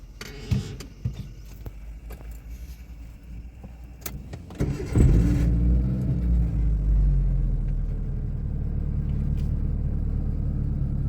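During a driving lesson a car engine cranks and catches after a few soft clicks and rattles. It then settles into a steady, close idle rumble that continues to the end.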